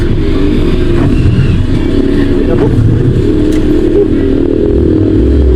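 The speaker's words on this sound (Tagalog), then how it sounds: "Parang parang namamatay yung kanyang makina." The engine of a Nissan Sentra B14 with a stalling fault runs loud and close up, giving a continuous rough, rattling drone that holds steady without clear revving.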